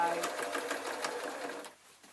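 A sewing machine stitches along the binding of a quilt in a steady rapid run, close and fairly loud, stopping near the end of the clip.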